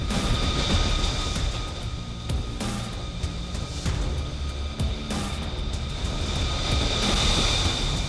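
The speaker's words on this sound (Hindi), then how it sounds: "अमेरिका का F-35 पांचवी पीढ़ी का जंगी जेट है।" A single-seat, single-engine F-35 fifth-generation fighter jet in flight, its engine giving a steady, loud, broad roar with a sustained high whine throughout, no voices.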